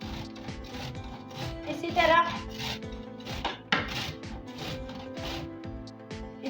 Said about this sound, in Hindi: सारे गाजरों को कद्दूकस करना है आपने।